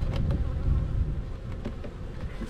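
Black honey bees swarm around an open hive in spring, a dense, close, continuous buzzing drone with individual insects flitting past.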